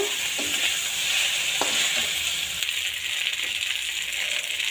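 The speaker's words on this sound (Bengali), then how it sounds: "এইবার কষানো ফুলকপিটা দিয়ে দিব। এবার নাড়ানাড়ি একটু করে" Sautéed cauliflower curry sizzles steadily in a frying pan while a utensil stirs it, giving a loud continuous hiss with a few soft scraping strokes close by.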